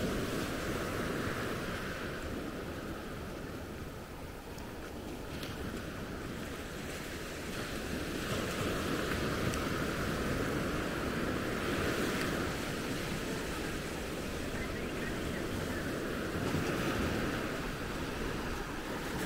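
Calm, smooth sea at Maspalomas beach, a soft continuous wash of gentle surf with light wind noise on the microphone, steady and unbroken throughout, no voices.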